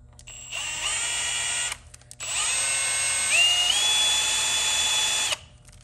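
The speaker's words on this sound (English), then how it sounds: "get yourself a long 5/16 drill" An electric drill with a long 5/16 bit whines in two steady bursts while drilling out crayon, separated by a brief pause, its pitch stepping up slightly during the longer second run.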